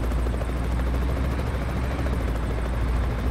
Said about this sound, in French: On a un hélicoptère à côté.